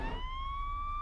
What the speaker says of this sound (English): approaching sirens, piercing the air with the incessant wailing